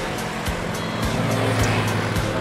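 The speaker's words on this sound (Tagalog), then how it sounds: "May mga nadaan po dito na buses, tricycle, tsaka po mga jeep." Traffic on a national highway in Candelaria, Quezon, with buses, tricycles and jeepneys passing, makes a continuous loud road rumble with a regular series of dull thumps every half second or so.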